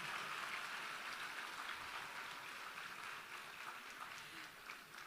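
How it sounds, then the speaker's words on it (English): A ceremony audience at a LIFT advancement event gives a big round of applause, a broad, even clatter of many hands that eases slightly toward the end and carries no voices. "Give yourselves a big round of applause."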